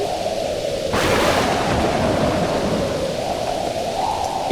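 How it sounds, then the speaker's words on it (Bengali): A heavy thunderstorm at night: loud, steady downpour of rain with a rolling swell of thunder near the start, continuous and alone without voices. "রাত নামলো বাইরে, তুমুল ঝড় আর বৃষ্টি।"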